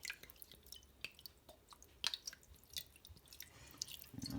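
White wine and juice drip and splash over a gammon joint in short irregular bursts, close and fairly quiet, with a wetter pour building near the end.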